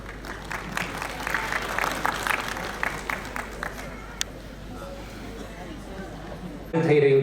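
Audience at a civic development-works inauguration breaks into applause that gradually thins out, followed by quieter crowd murmur and a brief louder burst at the end.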